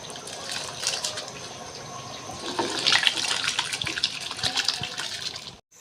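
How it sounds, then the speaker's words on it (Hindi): Uncooked rice poured into a pot of water for chicken biryani, a steady watery rush and splashing that swells midway and carries on for several seconds before cutting off. "तो ये देखें मैं अपने तमाम चावल पानी में डाल दूँगी।"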